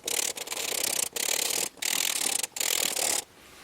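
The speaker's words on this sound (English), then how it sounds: "So just take the rest of the screws, pop them in, get them started." Screws being started by hand into the motor cover of a Specialized Levo electric mountain bike, a close, loud rasping ratchet-like whirr in four or five bursts separated by short pauses.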